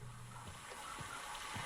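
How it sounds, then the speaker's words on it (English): Running water in Myst (2021), a steady broadband gush and wash that stays even and fairly loud throughout, with a few faint low thumps beneath it and no talking. "Sounds like there's water coming this way."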